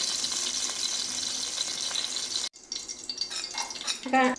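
Cashews and raisins frying with spices in ghee in a pan, a soft steady sizzle close by, then clinks and scraping of a utensil stirring against the pan.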